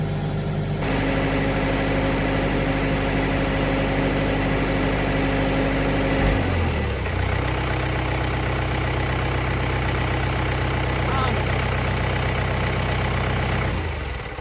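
A John Deere 4044M diesel tractor engine idles steadily and loudly nearby during a regen cycle, its low drone shifting pitch partway through before settling into a constant rumble.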